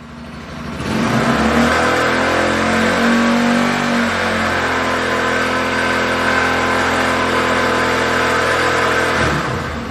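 A Bajaj Pulsar 200 NS motorcycle engine revs up to 4,000–5,000 rpm and holds a steady, loud drone at high speed for several seconds, then drops off at the end.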